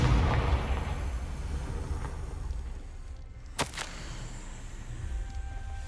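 A Confringo fire spell in Hogwarts Legacy lands as a single sharp, cracking burst with a quick echo over a low rumbling background, and then the sound settles again.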